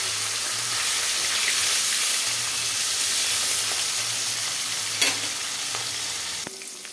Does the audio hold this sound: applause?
no